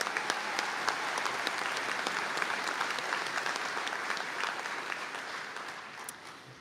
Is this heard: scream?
no